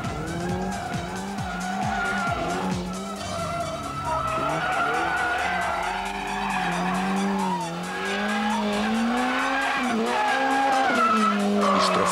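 BMW M3 E30 engine revving high, near its 9,000 rpm limit, while the tires squeal and skid, a loud wavering engine tone with long rising and falling screeches, close and continuous.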